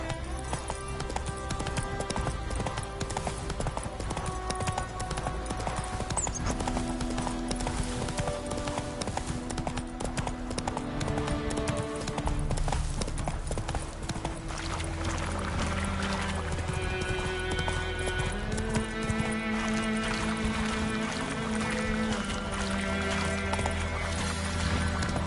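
Roach, the horse in The Witcher 3, galloping with a steady rapid clip-clop of hooves beneath background music, with a whinny partway through.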